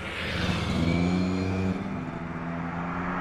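Road traffic on the A3 motorway through Cologne, a steady broadband roar of passing vehicles with an engine drone that rises, then eases around the midpoint before the wash of traffic carries on, loud and close, no talking.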